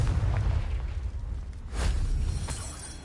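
A Confringo fire spell from Hogwarts Legacy bursts in a deep booming explosion, with rolling low rumble and a couple of sharper blasts following across a few seconds, heard alone without talk.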